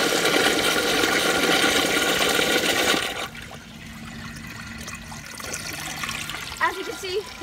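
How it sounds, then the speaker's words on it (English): Kohler Stanwell urinal flushing with a partly filled tank, a loud rushing gush of water for about three seconds that drops off abruptly into softer swirling and trickling, with faint background noise. "the tank wasn't full enough for a whole entire flush, but it starts swirling"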